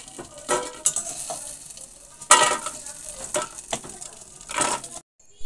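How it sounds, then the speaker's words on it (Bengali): Lentil dumplings (bori) fry in mustard oil over low heat, a steady bright sizzle broken by several sharp stirring and scraping clatters in the pan, close by with no voices, ending in a sudden cut to silence. "এবারে এর মধ্যে বড়িগুলোকে ভেজে নিলাম। বড়িগুলো আঁচ কমিয়ে দিয়ে ধীরে ধীরে লালচে করে ভেজে তুলে নেব"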